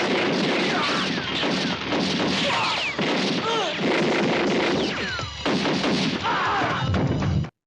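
Heavy gunfire rattles through a film shootout between a policeman and a drug lord's henchmen, loud repeated shots and crashes layered with dramatic scoring and voices, briefly dropping out before resuming.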